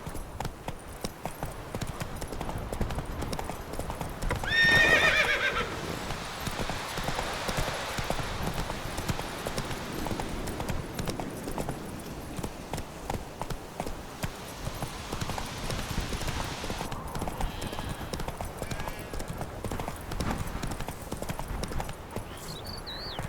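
Hoofbeats of the horse Roach in The Witcher 3 video game, a steady rapid clip-clop of galloping running throughout, with a brief whinny near the start and game ambience beneath.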